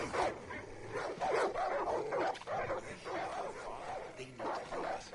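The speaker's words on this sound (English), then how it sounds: "And we hear dog barking." Dog barking in the video game Far Cry 5, a string of yips and barks with a whimpering edge, heard under steady game ambience and some voice.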